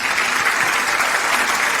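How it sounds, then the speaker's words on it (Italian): A studio audience applauds for Nico Sammy on an Italian radio and TV show, a steady, dense clapping wash that holds throughout, with no speech over it. "Facciamo un applauso per Nico Sammy."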